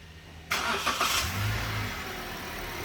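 A used car's engine cranks and catches with a sharp start, revs briefly, then settles into a smooth, quiet idle close by.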